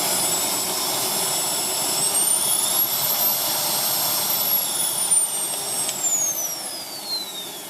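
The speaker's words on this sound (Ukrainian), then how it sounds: "Як ви бачите, полосмок запрацював" A Samsung vacuum cleaner runs after a repair to its burnt button contact, a loud, steady jet-like whine with a high tone that slowly rises and falls, close and continuous without talk.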